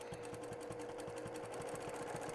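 A sewing machine stitches steadily while free-motion quilting a spider web arc, its needle hammering out a fast, even rhythm up close with no talk over it.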